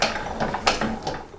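A hand-cranked sausage stuffer press ratchets and clicks in quick, uneven bursts as the crank turns, close and fairly loud with no talk.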